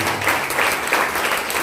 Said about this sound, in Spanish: desocupen la mano y se lo dan las palmas bien bonitas al Señor